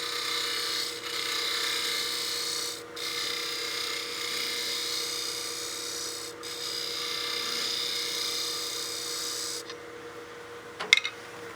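A lathe tool scrapes a spinning wood blank while a wine glass is turned, giving a steady close rasping drone with brief breaks, then it stops and a few knocks follow.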